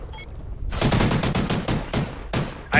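Rapid video game gunfire in a 2v2 match, a burst of closely spaced automatic shots hammering loudly after a brief quiet start, then a pause and a couple of final shots.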